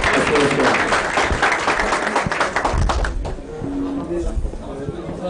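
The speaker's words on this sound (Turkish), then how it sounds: "O zaman alkışlarımız Olumsal Başkanımız İlyas için olsun." An audience applauds loudly at the opening of a Fenerbahçe supporters' association in Beylikdüzü, dense, steady clapping that fades somewhat toward the end, with a voice faintly present.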